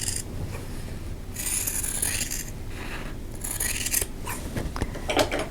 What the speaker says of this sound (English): cut right on the drawn line.